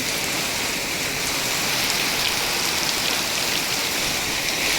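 Heavy rain pouring steadily over rice paddies, a dense continuous hiss of drops hitting surfaces, loud and close with no break.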